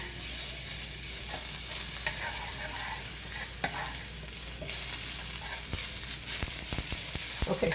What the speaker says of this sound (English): The pan is nice and hot. I'm going to use a little piece of meat because it's going to be greasy